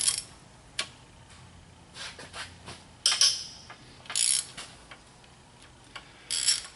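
A ratchet wrench and socket work loose the cylinder head bolts on a 2007 Mini Cooper S R56, giving bursts of sharp metallic clicking separated by quiet gaps, close and crisp with no talking.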